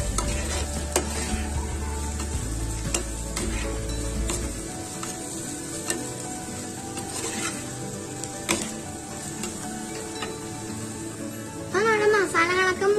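Turmeric, masala and chilli powder fry in a pan for karimeen pollichath, a steady sizzle with scattered scrapes and clicks of stirring, close and moderately loud, with a voice speaking over it.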